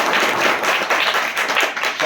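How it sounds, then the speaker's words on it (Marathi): A crowd gives a loud, dense round of clapping at an organic farming seminar, continuous and close for about two seconds. "खूप जोरदार टाळ्या सर."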